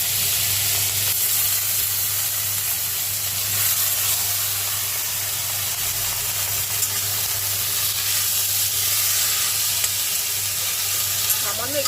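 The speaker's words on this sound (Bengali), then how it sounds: "দিয়ে সর্ষেটা যা ফাটছে, এবার আমি না থোড়টা দিয়ে দিলাম।" Mustard seeds and green chilli crackle in hot oil, then chopped banana stem (thor) goes in and fries with a steady, close sizzle that holds loud and even throughout, with occasional stirring.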